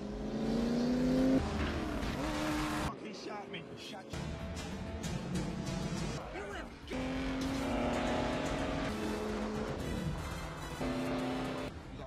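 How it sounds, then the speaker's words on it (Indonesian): Cars speed through a car chase in the film Bad Boys, with engines roaring, revving and passing, tires skidding, and a voice speaking throughout. "Faucet mencoba untuk melarikan diri menggunakan mobil, membuat Marcus dan Mike pun pergi untuk mengejarnya."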